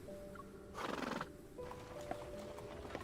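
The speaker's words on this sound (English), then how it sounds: "It's a horse." A carriage horse in a video game gives a short whinny, followed by a run of clip-clopping hooves under a faint steady background, with no talk.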